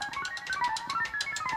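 A voice imitates typing on a 1960s computer with a quick rhythmic string of chirpy, beeping blips, close up and steady through the whole short stretch, with no words spoken.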